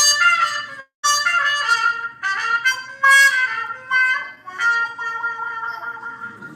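A trumpet fitted with a harmon mute, stem in, plays a short melodic phrase of bright, nasal, thin notes, loud and close, alone with no talking.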